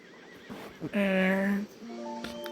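A horse whinnies once, a loud drawn-out neigh close by, followed by a shorter tonal call; faint voices murmur around it.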